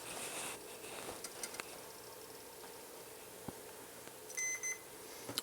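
A multimeter in continuity mode gives one short, faint electronic beep near the end, while a memory game kit is being soldered. Before it there are only soft handling taps and low room noise.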